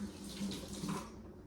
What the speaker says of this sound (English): Let me just wash this off my hands.